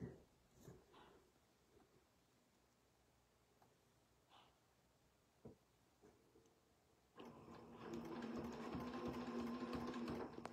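A quilting sewing machine stitches a lampshade design on a quilt, entering after scattered handling taps and bumps, then running in a steady, close mechanical whir with quick needle patter for the last few seconds.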